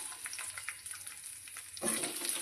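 Diced potatoes dropped into hot oil with dried chillies and bay leaves, a soft steady sizzle that swells into a louder, fuller hiss as the potatoes go in near the end.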